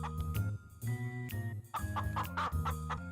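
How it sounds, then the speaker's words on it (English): Several chickens cluck in short repeated bursts close by, layered over a cartoon music background with light jingling tones. "A little later, Rapunzel heard clucking sounds."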